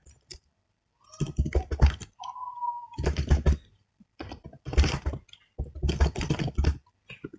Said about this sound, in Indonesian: Di sini kita ketikkan ulang emailnya.